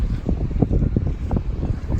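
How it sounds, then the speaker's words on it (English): Heavy gusty wind of 40-plus mph buffeting a microphone up close on a Thames riverside path near Goring, low rumbling gusts pulsing unevenly throughout. "really windy today. There's gusts of like 40 plus miles an hour"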